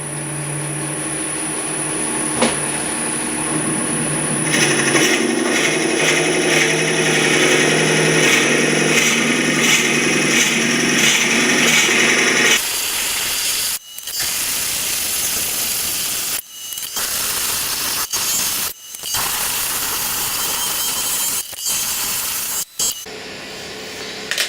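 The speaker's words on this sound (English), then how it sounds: "let's get this drilled out" A Forstner bit bores into an ash goblet blank spinning on a wood lathe, giving a loud, steady grinding whir for about twelve seconds before it stops. Shorter bursts of cutting and machine noise follow, broken by brief pauses.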